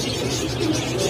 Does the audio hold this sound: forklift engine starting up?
no